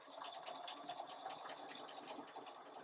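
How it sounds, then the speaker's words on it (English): A sewing machine stitches fabric for a window with a quiet, steady, rapid mechanical rhythm running throughout, faint and alone. "I'm going to sew this down to one side of my window"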